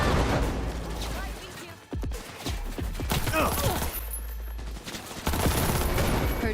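Gunfire bursts in Cyberpunk 2077, rapid volleys of shots cracking in clusters amid loud combat, with a voice talking over parts of the exchange.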